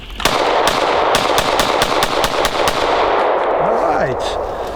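A Glock pistol mounted in a Recover Tactical PIX+ chassis fires a rapid string of about a dozen loud, close shots at a steady clip over roughly three seconds, with brief room noise after.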